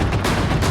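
Celebratory fireworks burst outside Kanpur jail as a convoy of cars welcomes a released accused, with loud, sharp cracks following in quick succession like a rapid volley.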